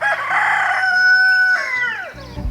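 A pet rooster kept in a backyard chicken flock gives one loud, close crow, a rising then falling call held for about two seconds and sounding alone.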